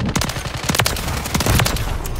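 Rapid gunfire from a Modern Warfare 3 match comes through as a dense run of close, loud shots in quick succession with barely any pause, sounding like automatic rifle fire.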